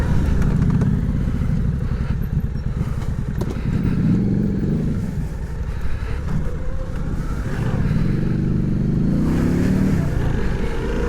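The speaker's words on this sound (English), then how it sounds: "Sounds pretty good, the old Pan Am. It's a Chinese exhaust on it." A Harley-Davidson Pan America motorcycle fitted with an aftermarket Chinese exhaust rumbles loudly and close, its deep engine note swelling and easing through repeated revs over a continuous throb.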